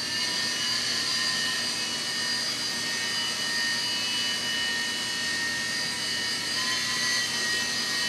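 A small E-flite Blade mSR micro RC helicopter hovers in place, its rotor and motor giving a steady high-pitched whine and buzz that holds unchanged and close throughout.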